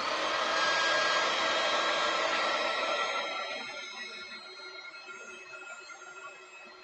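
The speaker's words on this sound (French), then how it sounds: "Je prends ensuite mon pistolet à colle, qui est un peu bruyant, je vous l'avoue." A heat tool blows loudly while melting embossing powder in a craft project, a steady whooshing hum that fades to a quieter whine partway through, with no talking.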